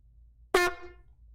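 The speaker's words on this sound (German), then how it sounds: "Das ist die Tröte." A handheld toy horn, used as a stream alert, gives a single short, bright, honking toot that stands alone against near silence and fades quickly.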